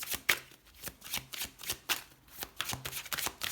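Tarot cards shuffled by hand, close and clear, in a quick run of rhythmic riffling bursts repeating about every half second.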